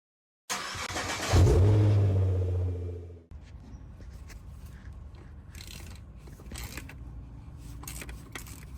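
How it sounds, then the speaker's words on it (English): A Nissan Navara D23 engine cranks and catches with a loud burst, revs briefly, then settles into a quieter steady idle. "Engine start."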